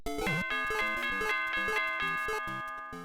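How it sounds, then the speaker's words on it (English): A chiming doorbell jingle from Super Mario Maker plays as a bright, stepped melody of ringing tones, clear and alone for about three seconds, fading slightly at the end. "We're gonna ring the doorbell for no apparent reason."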